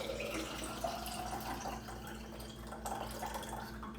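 Liquid pours steadily with a bubbling, splashing wash over a low hum, continuous and close throughout.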